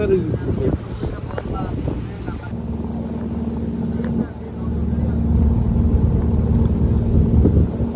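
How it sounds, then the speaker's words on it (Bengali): Steady wind rushes and whooshes across the microphone in the Sundarbans, with a low engine drone underneath and brief voices early on. "বাতাসের শো শো শব্দ"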